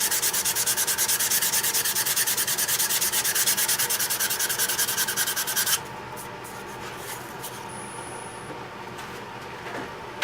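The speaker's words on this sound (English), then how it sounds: "I always like to kind of sand that back" Sandpaper at 180 grit rubs against a spinning turned wood piece on a lathe, a steady loud scratchy hiss for about six seconds, then drops to a quieter whir with faint scraping as the sanding stops.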